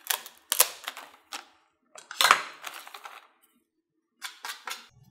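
A knife cuts an ingredient on a cutting board for army base stew, giving a few scattered sharp taps and clicks in small clusters with quiet gaps between, close and fairly soft.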